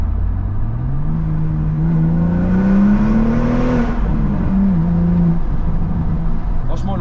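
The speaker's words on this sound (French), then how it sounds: "Ah, le son du moteur, il est vraiment fou" A BMW M135i with the N55 3-litre straight-six revs loudly up through the gears, its engine note rising steadily then dropping and settling into a constant drone, heard from inside the car.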